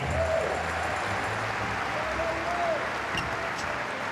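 An audience at a children's competition prize-giving claps continuously for a winner, a dense, steady wash of applause with no pauses.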